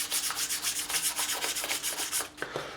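Sandpaper rubbing along the frets of an ESP E-II Eclipse guitar to round them over and remove burrs, rapid rhythmic back-and-forth scratching strokes close up, stopping briefly near the end.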